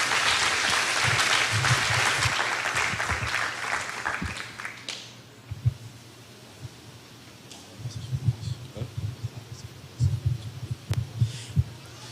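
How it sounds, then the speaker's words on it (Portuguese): Applause fills a church service's first four seconds, then fades to a quieter room with low thumping and scattered claps that pick up again near the end. "Uma salva de palmas."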